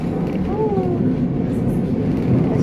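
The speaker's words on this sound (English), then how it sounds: "而且又有电车经过啊" A tram rolls past on a city street in Christchurch, New Zealand, giving a steady low rumble with a brief rising squeal from the wheels, close by and continuous, with street ambience behind it.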